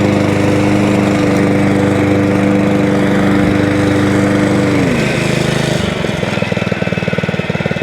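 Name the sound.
Honda GXV160 lawn mower engine idling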